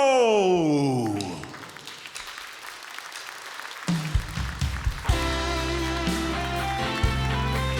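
A crowd claps to welcome a singer onto the stage at the Zelta Čiekurs 2025 awards ceremony. The dense, steady applause falls between passages of music, which fade out before it and swell up again after.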